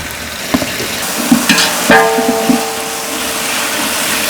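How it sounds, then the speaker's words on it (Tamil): A spatula scrapes and knocks in a pan while spices sizzle steadily underneath with coriander and mint, several distinct clacks over continuous frying. "இதெல்லாம் வதங்குற வரைக்கும் கிண்டுவோம்."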